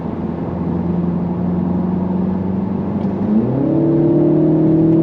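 Engine sound from a 2026 Mini Cooper S, piped through the cabin speakers, hums as a steady, loud drone, then climbs in pitch with a smooth rev-up partway through; no one talks.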